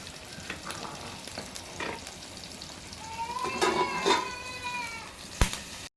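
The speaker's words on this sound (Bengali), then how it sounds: "সেই সাথে মাছ ভাজা এখনো শেষ হয় নাই।" Fish frying on a clay stove gives a steady sizzle with some stirring, while a cat meows in the middle and a sharp knock lands near the end.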